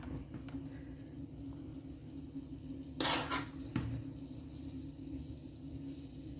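A spoon scoops samosa filling mixture from a dish, giving one sharp scraping clink against the bowl amid quiet kitchen background hum, followed by a soft tap.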